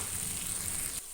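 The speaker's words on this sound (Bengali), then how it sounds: "এবার আমি দিয়ে দিচ্ছি এতে সেই জিরে আদার পেস্টটা দিয়ে ভালো করে কষিয়ে নেব" Cumin and ginger paste sizzles as it fries in a pan, a close, steady crackling hiss that cuts off abruptly near the end.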